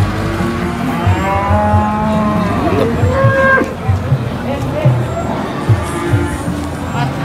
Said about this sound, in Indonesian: Dua ekor sapi dari Wonosobo ini.